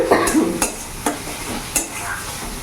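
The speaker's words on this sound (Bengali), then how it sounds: "এবার ভালো করে মশলাটা আমি কষিয়ে নেব" Spice paste for silver carp kalia sizzles in oil in a frying pan while being stirred, with a few sharp scraping strokes over a steady soft crackle.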